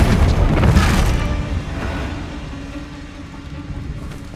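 A fiery Confringo blast spell detonates in the Hogwarts Legacy video game, a loud booming burst at the start that rolls off into a fading rumble, with no talking over it.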